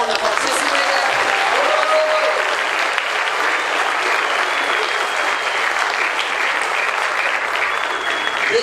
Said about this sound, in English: can we give a round of applause to everyone that participated?